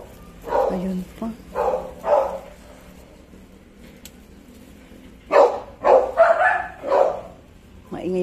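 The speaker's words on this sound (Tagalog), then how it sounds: "Maingay yung aso namin." A dog barks repeatedly nearby in short bursts, pausing briefly between volleys.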